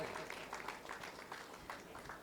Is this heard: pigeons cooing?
no